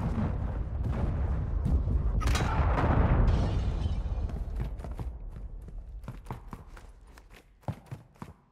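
A cruise missile strike lands in Call of Duty Modern Warfare 2 multiplayer as a loud, rolling explosive rumble that swells and fades over several seconds. Scattered sharp clicks and thuds follow.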